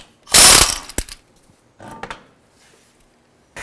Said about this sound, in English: remove these lug nuts and get the wheel pulled off